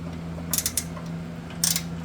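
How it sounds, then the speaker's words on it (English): A hand ratchet turns an 18mm bolt on a Ford F-150 upper control arm, giving two short bursts of quick, close clicking over a quiet background hum. "This works so much nicer when you have ratchets."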